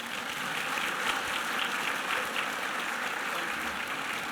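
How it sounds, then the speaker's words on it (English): Sustained audience applause fills a banquet hall at a student awards ceremony, a dense steady wash of many hands clapping throughout, moderately loud with no voices standing out. "Could we have another round of applause for them"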